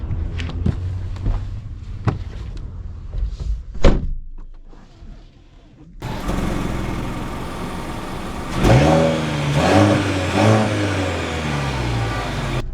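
Engine of a Mercedes CLE 300 coupe starts up and revs loudly several times up close, after a few door thuds and clicks.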